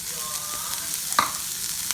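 Onions added to a small pan sprayed with cooking spray over medium heat, frying with a steady close sizzle and a brief clatter of stirring partway through.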